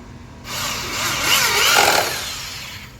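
A power drill for boring into concrete and pillars whirs up in one loud, close burst of about two seconds, then winds down, with no voices over it.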